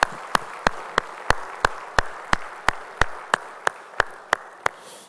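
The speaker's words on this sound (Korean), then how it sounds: "우리 주님께 영광의 박수 올리겠습니다" A church congregation at a Korean worship service claps in a steady, evenly spaced rhythm, a dozen or more sharp, loud beats over a soft background wash.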